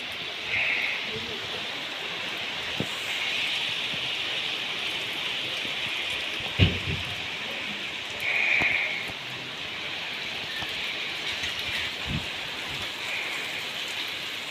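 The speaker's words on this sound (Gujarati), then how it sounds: "કેમેરા બહુ બતાતું નથી પણ ફૂલ વરસાદ ચાલુ છે." Heavy monsoon-style rain pours down steadily outside a home, a dense close hiss of falling water with a few sharper splashes and knocks breaking through.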